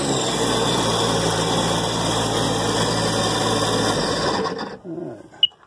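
A Sea-Doo personal watercraft engine running steadily at a constant idle-like drone with a mechanical hum, loud and close, then shutting down and fading near the end, followed by a short sharp click.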